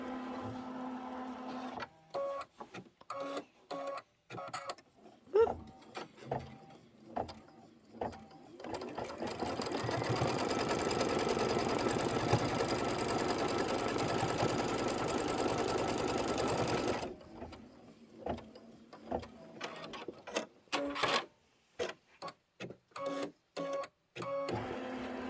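An embroidery machine stitches a quilt block for a haunted-house pillow, running in a loud, steady mechanical burst for several seconds, framed by quieter stretches of short, intermittent needle strokes and handling clicks before and after.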